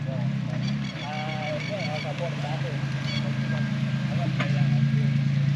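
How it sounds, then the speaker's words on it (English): A red Toyota Supra pulls in at a Japanese classic car show. A steady engine idles close by while someone talks over it. "we do have a red Supra now pulling in"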